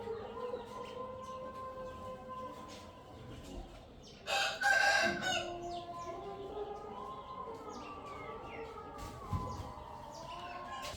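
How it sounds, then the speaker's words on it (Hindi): A rooster crows near a nest where a hen sits on eggs, one loud crow standing out midway over steady background clucking and bird chatter from the coop. "लाल बादशाह की जो बहन है ये अंडों के ऊपर हो गई है तैयार"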